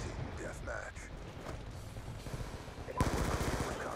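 Gunshots in the Black Ops 2 video game, with rapid bursts of fire alongside game effects and talk, ending in a louder, dense volley.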